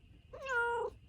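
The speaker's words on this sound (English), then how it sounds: "Sorry, the cat is driving me crazy" A cat gives a single clear, close meow lasting about half a second, rising and then falling, heard alone against a quiet room.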